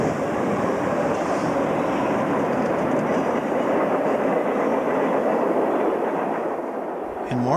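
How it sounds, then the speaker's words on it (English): A westbound freight train of loaded and empty cars rolls past in Warren, Massachusetts, a loud, steady rumbling roar with wheel clatter filling the whole stretch, easing slightly near the end. "we see a train headed west with cars filled with a variety of goods and some empty cars"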